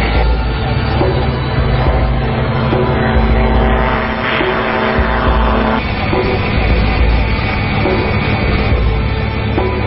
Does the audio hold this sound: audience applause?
no